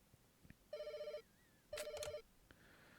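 A telephone rings in the Lovecraftian RPG Paracom, two distinct electronic bursts of rapid trilling bell tones about a second apart, clear and close with no talk over them.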